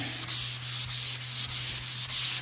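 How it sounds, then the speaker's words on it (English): Steady back-and-forth rubbing of a sanding pad over caulk, close and even, with rhythmic strokes over a constant low hum. "you take your sanding pad and then you sand"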